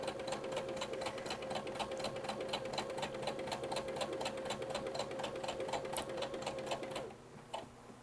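A sewing machine back stitches on a small Baby Yoda outfit, with a quick, even ticking rhythm heard close and fairly quiet, then it stops with a couple of faint clicks.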